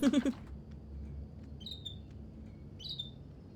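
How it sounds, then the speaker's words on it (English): Two short, faint high chirps from a bird in the video game Heavy Rain, spaced about a second apart over a low indoor room hum, after a brief opening voice sound. "There's a bird."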